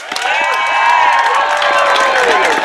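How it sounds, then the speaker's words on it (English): At an outdoor March for Our Lives rally, a crowd claps and cheers with high whoops and shouts layered over continuous applause, loud and close throughout. "So let's give them a round of applause."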